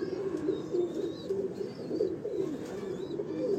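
Pigeons cooing on a rooftop loft, a steady overlapping run of soft low coos close by, with faint higher chirps above.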